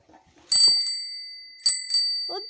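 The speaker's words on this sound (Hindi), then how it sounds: "कैसे बजे तेरी घंटी?" A bicycle bell on a new bicycle rings twice, close and bright, with short metallic rings that fade out, then a faint rattle.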